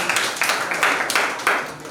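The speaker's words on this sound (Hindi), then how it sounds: "ताली बजा दें आपको" A classroom of students claps for a classmate in a short burst of dense, overlapping hand claps at steady loudness, with no talk on top.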